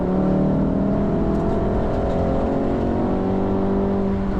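A racing car engine held at full throttle on the Nürburgring Nordschleife during a trackday lap, a loud, steady, rising drone with strong harmonic whine throughout and no break.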